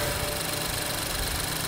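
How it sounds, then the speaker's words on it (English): The 2012 BMW 328i's engine idles steadily with a low, even hum, close and continuous with no talking over it. "And then there's the start-up and idle noise for this engine"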